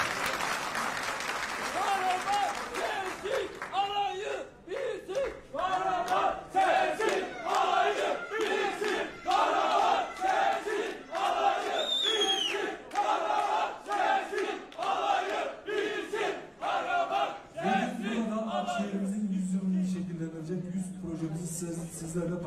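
A young crowd cheers and chants with rhythmic rising shouts at an AKM hall event, loud and sustained for most of the stretch, ending in a steady drone of voices.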